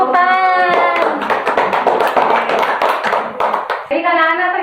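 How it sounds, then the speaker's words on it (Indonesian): Schoolchildren in a classroom break into loud, close, dense clapping, a steady patter of many hands, with voices singing or chanting at the start and end. "Beri tepuk tangan."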